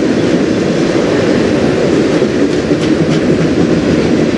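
A CN freight train passing close by on the Strathroy Subdivision, a loud continuous rumble of rolling railcars with steady wheel clatter and faint squeals.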